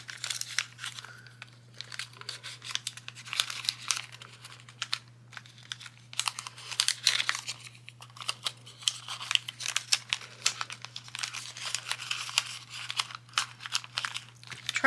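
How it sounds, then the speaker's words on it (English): Scissors snip and crinkle through craft cherry decorations for a coquette Valentine's swap, a close run of small irregular cuts and rustles with a faint steady hum beneath. "cherries too large to fit in there, so cherries have to be cut down"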